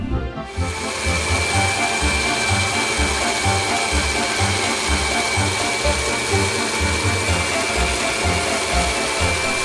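A Taurus 3 Mega Blade ring saw cuts through granite with a loud, close, continuous grinding whine over a steady rhythmic pulsing hum, running unbroken for about ten seconds with no talk.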